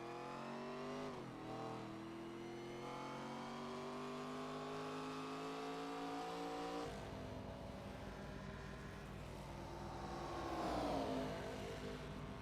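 Race cars at Suzuka Circuit in the iRacing sim scream through the gears, engines rising in pitch with sharp upshifts and a hard drop as they brake, loud and steady with no commentary.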